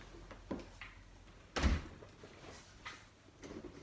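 A door shuts with a dull thud partway through, set among a few softer knocks and bumps in a quiet room.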